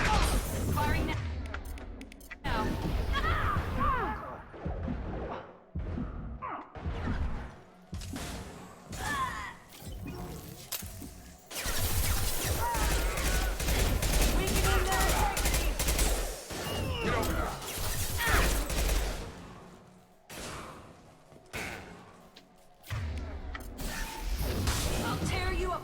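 Gunfire in Mass Effect 2, with repeated bursts of rapid shots and heavy booming blasts over long stretches, broken by short pauses, loud and close, with voices speaking at times amid the fighting.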